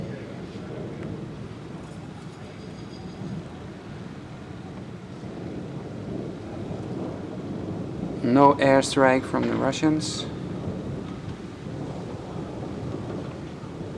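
Thunderstorm with rain and wind hissing steadily in the background, low rumbling throughout, while someone talks briefly in the middle over the storm noise.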